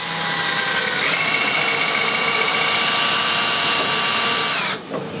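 A power tool cutting a hole in a door for a lock, a loud, steady, high-pitched whine running close and continuous before cutting off abruptly near the end.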